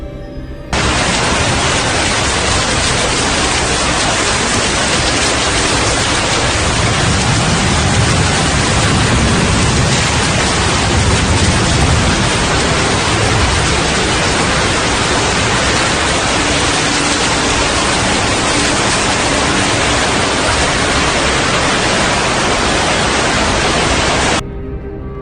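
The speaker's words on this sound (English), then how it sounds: "Heavy rain caused flash floods in La Paz, Bolivia, inundating the city's streets." Heavy rain and flash flooding in the streets of La Paz, Bolivia: a loud, unbroken broadband roar of downpour and rushing water, with a deeper rumbling surge partway through, then an abrupt stop at the end.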